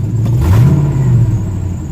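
Chevy C10 pickup with a swapped LS 5.3 V8, still on the factory Silverado tune, idling steadily up close with a low, even rumble and a slight swell midway, no talk.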